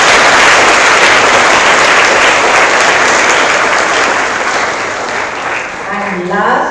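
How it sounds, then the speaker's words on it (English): An audience at a first-year MBBS white coat inauguration ceremony claps for their teachers and the chairman, a loud, dense, continuous round of applause that thins toward the end as a voice begins speaking over it. "the second clap has to go for your teachers and the chairman"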